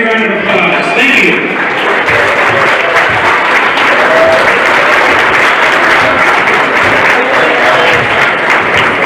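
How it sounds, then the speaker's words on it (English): Crowd applause at a Columbus Catholic vs Greenwood boys high school basketball game fills the gym, loud and steady from start to finish in a continuous wash of clapping. "Let's give our parents a big round of applause."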